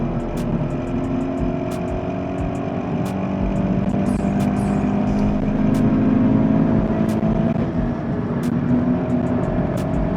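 A 2016 Scion FR-S with about 200 horsepower cruises at highway speed, giving a steady, close engine drone mixed with road and wind roar inside the cabin, with no one talking.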